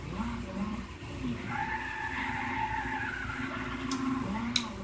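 In the Gran Turismo 6 racing game, a Mazda's front tires squeal and skid continuously under engine drone, the screech rising and falling across the stretch, with a couple of sharp clicks near the end.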